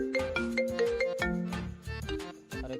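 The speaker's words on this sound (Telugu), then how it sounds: "సర్పంచ్ ఫోన్ చేస్తుండే" A mobile phone rings with a bright, repeating electronic melody of tonal notes, playing steadily and alone for about three seconds as a call comes in from the village head.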